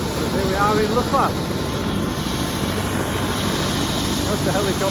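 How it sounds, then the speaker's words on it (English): A helicopter at Lukla gives a loud, steady engine and rotor drone that fills the whole clip, with a voice briefly heard over it. "That's the helicopter."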